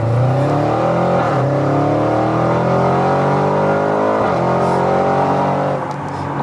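A 2021 Audi RS6 with a Stage 2 tune, downpipes and full exhaust revs loudly and up close, its engine note climbing and falling in repeated sweeps for several seconds with no talk over it.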